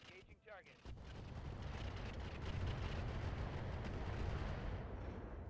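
Heavy weapons fire from battling mechs in the RogueTech video game, a deep rumbling barrage of booms and blasts rolling continuously after a brief quiet lead-in.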